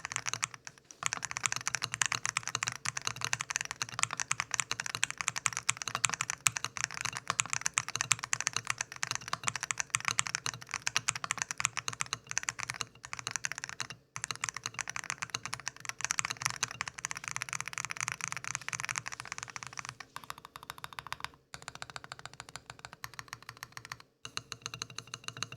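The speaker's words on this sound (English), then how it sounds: "I do actually like the sound of the keyboard, but I also think that these keycaps are really holding it back from sounding amazing." Steady, fast typing on a MelGeek Evangelion Hall effect keyboard with an FR4 plate: dense, close clacking keystrokes run continuously for about twenty seconds, then thin out into sparser presses near the end.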